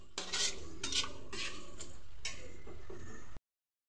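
Tomatoes being stirred into onion and garlic in a pan for an aubergine and potato curry, a few close metallic spoon scrapes and clinks against the pan over a faint sizzle, with no talk.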